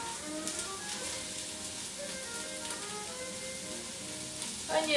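Onions sizzle and fry in hot olive oil in a pan, a steady close crackle throughout with a brief louder burst of spatter near the end.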